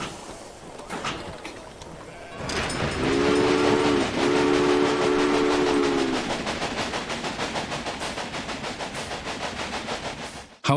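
Locomotive in the railway-building video game Railway Empire, with a steady rolling rumble and the rhythmic clatter of wheels, and a two-part whistle blast sounding partway through.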